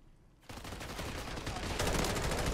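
Gunfire in Modern Warfare 3 with an M16 fitted with a conversion kit: sustained dense rapid shots that start abruptly after a short quiet moment and grow louder, filling the scene without a break.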